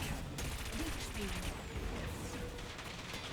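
Weapons fire in the anti-gravity racing game Wipeout Omega Collection, with rattling cannon bursts and zapping beam effects layered over a constant hovercraft engine hum, dense and loud across the whole stretch.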